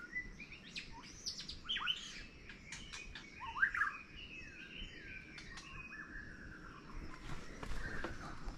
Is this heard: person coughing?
no